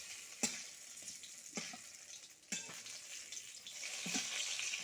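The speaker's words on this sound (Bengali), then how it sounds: "এদিকে কিছু বড়া হচ্ছে বেগুনের" Eggplant fritters frying in hot oil on a home stove, a continuous close sizzle broken by a few sharp bursts as pieces are stirred or turned.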